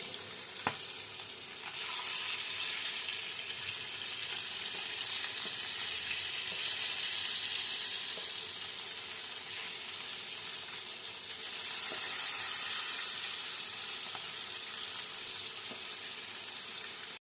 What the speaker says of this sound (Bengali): মাছ ভাজার তেলে মাছগুলো তুলে নেওয়ার পর এরম ডুমো করে কাটা আলুগুলো আস্তে আস্তে ছেড়ে দিলাম